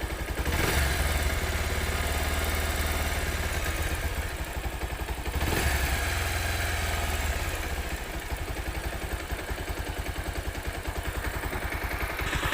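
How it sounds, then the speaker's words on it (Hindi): A Bajaj Pulsar motorcycle engine with an over-revving and mileage problem idles steadily with a low, rapid clatter throughout, close by, with no voices. "तो बाइक अभी स्टार्ट है।"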